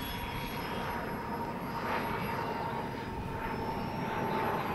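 A twin-engine RC Flying Pizza Box foam plane drones overhead with a continuous high propeller whine, moderately distant and steady, rising slightly toward the end with no talking.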